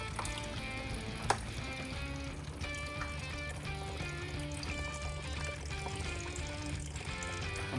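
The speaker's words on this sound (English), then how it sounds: "our next step is to drain the fuel" Fuel trickles steadily out of a dirt bike recovered from underwater, a faint continuous dribble of liquid with one sharp knock early on.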